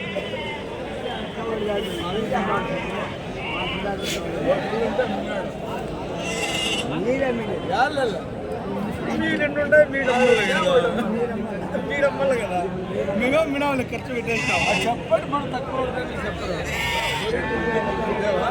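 Sheep and rams bleat repeatedly over steady crowd chatter at the busy Kadiri ram market, with people talking close by throughout.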